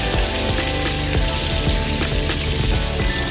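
Rui fish sizzling in a hot pan of oil after being turned, a loud, dense crackle and spatter held steady throughout with no speech.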